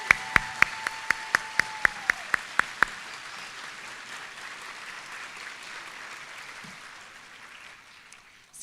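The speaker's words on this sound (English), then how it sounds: "Let's give all of them a round of applause." A school celebration audience applauds, starting with a few sharp, evenly spaced claps that quickly blend into softer scattered clapping and fade into quiet room noise over several seconds.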